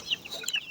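Chickens cluck softly and intermittently at close range while being fed grain and water, several short calls overlapping.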